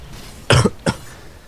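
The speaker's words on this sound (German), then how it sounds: "Oh, ich hasse meinen Husten." A person coughs twice in quick succession, close and fairly loud, during a Diablo 3 co-op session, with a quiet background and no speech.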